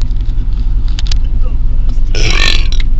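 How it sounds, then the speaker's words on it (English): A long, loud burp from a passenger in a car on a road trip, stretching about a second over steady engine and road rumble, with a few voices around it. "Oh, it's all long burp."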